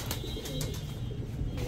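Pigeons coo softly at a poultry farm housing White Shamo chicks, a low steady murmur of many birds close by with no talk.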